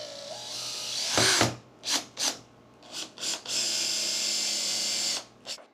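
A screw is driven into PVC pipe with a power drill in several short bursts, including one longer run, each whirring up and stopping, close and fairly loud, with no talking.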